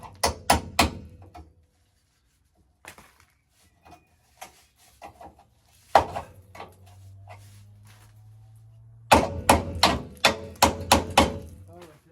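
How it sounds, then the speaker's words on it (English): Hammer blows ring out on metal underneath a van, a few quick strikes at the start, scattered knocks and clatter in between, then a final rapid flurry of hits; a low hum runs through the middle section. "Let's give that a quick hammer."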